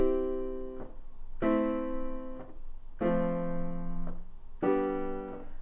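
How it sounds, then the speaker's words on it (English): Piano plays four sustained chords in a common pop-style progression, each struck cleanly and left to ring about a second and a half before the next, alone and fairly close with no voices. "So a chord progression might sound like this."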